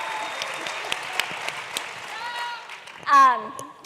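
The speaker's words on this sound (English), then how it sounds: "Give her a round of applause." An audience at a political conference panel claps, scattered sharp claps over a soft crowd wash that fades, then a voice cuts in loudly near the end.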